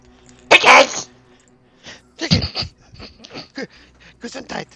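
A single sharp sneeze bursts out close and loud near the start, followed by scattered speech and small vocal sounds.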